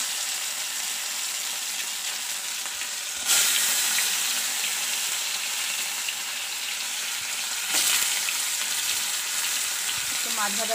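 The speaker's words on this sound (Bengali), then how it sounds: "মাছ ভাজাগুলো বসিয়ে দিলাম," Fish pieces fry in a hot pan in a home kitchen, a steady sizzling hiss that swells with two louder bursts as pieces are added or turned, fairly faint and without voices.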